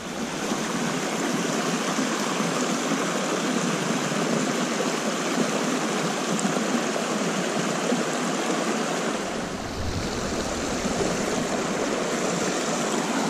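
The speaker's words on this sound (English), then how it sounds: "Some pretty big boulders and waterfalls here on this creek" A mountain creek pours over big boulders and small waterfalls, sending out a loud, steady rush of water that continues alone throughout, with a deeper low rumble coming in near the end.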